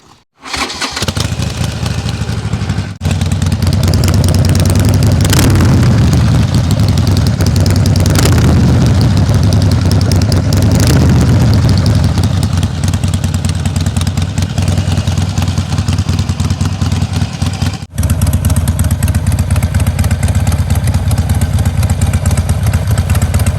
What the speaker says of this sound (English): Get ready to listen to this Screaming Eagle exhaust.